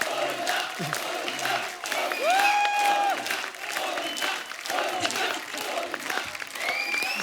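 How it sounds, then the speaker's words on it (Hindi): Applause and cheering from a studio audience on Kapil Sharma's comedy show greet Govinda, a dense steady clapping wash with a voice and some whooping over it. "जोरदार तालियां गोविंदा सर के लिए।"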